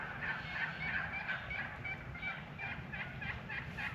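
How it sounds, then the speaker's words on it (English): Several wild turkeys, long-bearded gobblers in a flock, gobble at a distance, repeated calls rising over a steady outdoor background with no talking. "Turkeys, probably 10 or 12 long beards."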